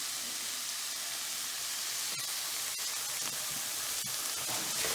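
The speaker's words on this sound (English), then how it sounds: "I'm going to let the ginger and garlic get added to fry up a little bit" Ginger and garlic fry in a pan for a spicy Indian lamb curry, giving a steady, fairly faint hiss of sizzling oil with a few soft clicks and crackles scattered through it, with no one talking.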